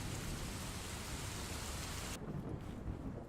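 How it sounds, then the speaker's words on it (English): A Rainy Mood rain recording plays as a steady, even hiss of falling rain, low and continuous throughout, with a dull rumble underneath and the top end dropping away near the end. "I'm going to have some rainy mood in the background."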